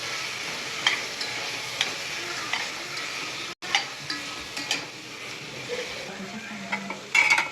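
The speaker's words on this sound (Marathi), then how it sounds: "बघा आपले मसाले सगळे फ्राय झाले आहे।" Turmeric and coriander powder fry in hot oil for soybean biryani, a steady soft sizzle with scattered stirring clinks and scrapes, close by and without talk.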